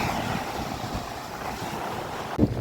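Sea waves roaring on a shore at Kalpakkam, Tamil Nadu, with fishing boats nearby: a continuous rushing surf heavily mixed with wind buffeting the microphone, and a brief thump at the end.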